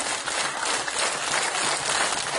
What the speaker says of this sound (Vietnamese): Vỗ tay 7 cái.